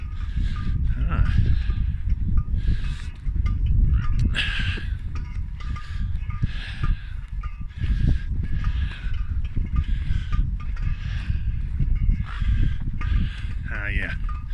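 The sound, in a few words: two birds calling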